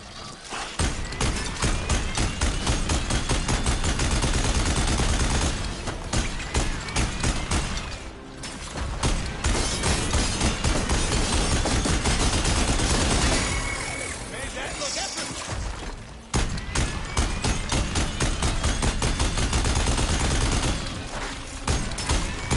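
A rapid-firing weapon rattles in Horizon Forbidden West's Burning Shores, loud dense bursts of repeated shots held for long stretches with brief pauses between volleys.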